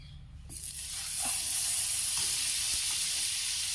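Garlic, cashews, chilies and tomatoes sizzle steadily in hot butter, a bright continuous hiss that swells after the first half second, with a few soft stirring clicks and no voices.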